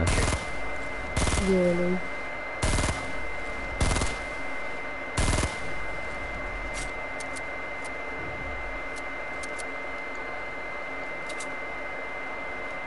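Burst rifle firing in Fortnite playground mode: several short, sharp, loud volleys spaced about a second apart, followed by quieter game ambience and faint clicks, with a brief spoken remark.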